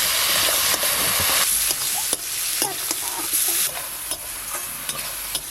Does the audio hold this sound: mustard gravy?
yes